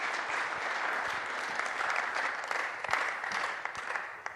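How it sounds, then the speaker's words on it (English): Steady applause from an audience, a dense wash of clapping that holds at an even level throughout with no talking. "give a round of applause for these two."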